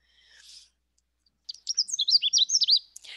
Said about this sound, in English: I'm going to play the Canada Warbler now.